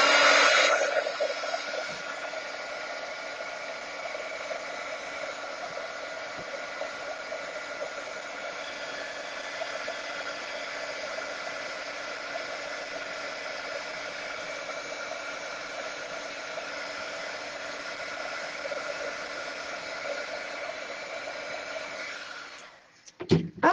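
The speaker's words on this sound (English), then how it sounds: "I'm gonna aim my heat at the center of the flower." A heat tool blows hot air steadily onto paper flowers, a loud continuous whooshing hum that holds for over twenty seconds before cutting off with a couple of clicks at the end, no voices.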